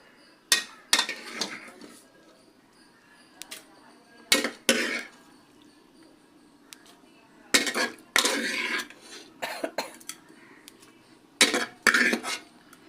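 Cooked arai keerai greens mashed in a clay pot, giving close, loud bursts of clattering knocks and scraping in irregular clusters with quiet gaps between them.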